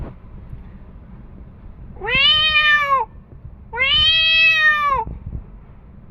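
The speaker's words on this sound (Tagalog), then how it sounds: "May pusa dyan, tingnan mo." Two drawn-out meows from a white cat, each about a second long, separated by a short pause, close and clear over faint background rumble.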